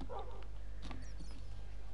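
Puppies barking in the video game Minecraft: a couple of short, yippy dog barks and whimpers over a steady low game hum, fairly close, with no talk.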